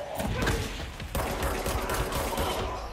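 Rapid gunfire in the action game Control, a dense, loud stream of shots filling the whole three seconds with a brief dip just before the one-second mark.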